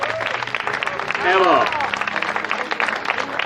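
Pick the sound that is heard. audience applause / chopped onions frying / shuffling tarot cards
audience applause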